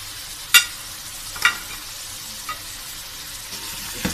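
Ground spices and biryani masala fry in a pan for a Karachi beef biryani, making a soft steady sizzle with a few sharp scraping clicks spaced across the clip, close and without talk.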